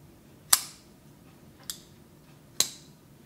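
Kaiser Flashbang folding knife opened and closed: three crisp, sharp metallic clicks spaced about a second apart, close and clear against a quiet background.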